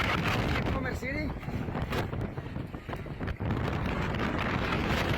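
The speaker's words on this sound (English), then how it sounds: "está un tornado aquí en las albercas" Roaring tornado wind by outdoor swimming pools, loud and continuous, buffeting the microphone throughout with a few brief gusty dips.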